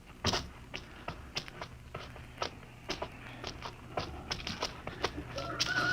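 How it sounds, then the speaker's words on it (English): A rooster sound effect in a live radio theatre drama gives a string of short, fairly faint clucking calls, irregularly spaced and rising a little toward the end. "I could swear that sounded like a rooster."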